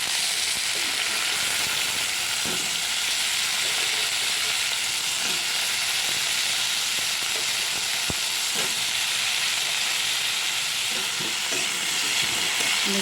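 Ridge gourd and potatoes fry in a pan with a constant crackling sizzle, while a utensil stirs them with scattered soft scrapes and knocks.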